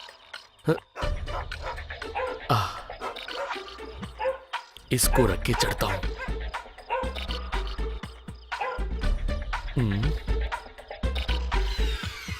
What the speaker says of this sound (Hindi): ये कुत्ते भी सोते नहीं क्या?